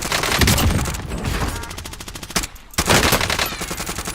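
Krig 6 assault rifle from Call of Duty Warzone firing sustained automatic bursts, loud and close, with a brief pause before shooting resumes.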